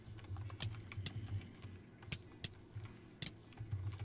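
Computer keyboard typing during a Wynncraft gaming session, with quick uneven bursts of key taps close up over a dull background hum.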